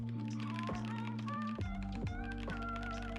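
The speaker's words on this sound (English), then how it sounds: "Now this sounded like, yeah, nice deep sounds and all that." Rapid keystrokes on a Command 65 mechanical keyboard give a deep, muted clatter, faint and steady beneath louder sustained background music.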